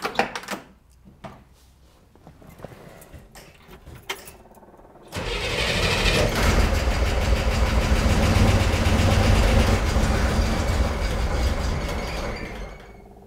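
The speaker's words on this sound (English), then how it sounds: "start the engine, and show you what it's like without the choke as it tries to start and run" A Chevy Corvair engine, without its choke, cranks and sputters for several seconds, then catches into a loud, rough running roar that continues steadily, with clattering mechanical noise throughout.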